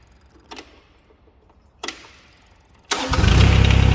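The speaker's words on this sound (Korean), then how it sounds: "시동을 걸고" Mini excavator engine cranking and starting after a hydraulic hose replacement: two short clicks or cranking bursts, then the engine catches and settles into a loud, steady idle rumble.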